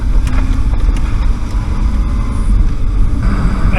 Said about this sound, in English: So I'm gonna go for a slightly longer drive.